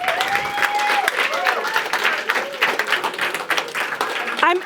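An audience at the Climathon Bratislava awards applauds steadily while voices, whoops and cheers rise through the clapping, which is moderately loud and crowd-wide.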